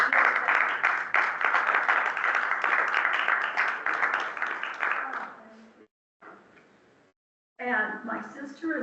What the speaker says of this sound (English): could we just have a little applause for the work?